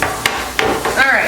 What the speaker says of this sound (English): you just want to mix it until it looks like everything's, really mixed together well